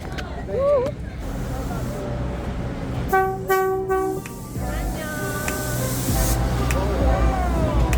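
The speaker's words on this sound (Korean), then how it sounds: "아 기차 오고 있어서 못 간대" A train horn blares in a long tonal blast as a train approaches, amid crowd chatter and rumbling noise, with people talking nearby, near Taipei, Taiwan.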